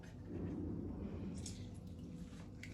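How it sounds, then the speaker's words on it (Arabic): Half a lemon squeezed by hand in a home kitchen, its juice dripping faintly in a few soft, wet drips over a low background hum. "ادي لا نص ليمونه اهو"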